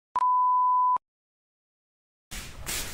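A single loud censor bleep, a pure steady tone lasting just under a second, cuts abruptly in and out, followed by silence and then muffled noise.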